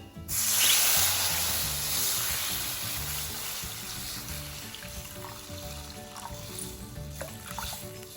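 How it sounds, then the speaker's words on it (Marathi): Water poured into roasted semolina in a hot pan while making upma bursts into a loud sizzling hiss at first, then settles into a steady, softer bubbling hiss that continues to the end. "आता मी पाणी टाकते."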